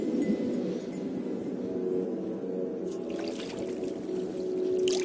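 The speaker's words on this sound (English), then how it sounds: "It's water, or is it sap?" A steady pour of water or sap in the video game Brothers, a continuous trickling gush that holds at an even level and brightens slightly toward the end.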